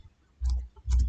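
A computer keyboard is typed on during a command-line entry, with two soft, close, dull key thumps about half a second apart in near silence.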